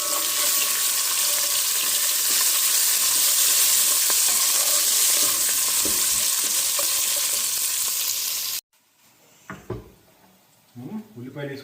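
Onions and chopped chillies frying in oil, a loud continuous close sizzle that cuts off abruptly near the end, followed by quieter clatter and a voice speaking.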